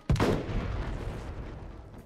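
A single loud gunshot goes off in the video game Final Fantasy XV during the Prompto DLC. It cracks sharply near the start, then a booming, rumbling tail lingers and slowly fades.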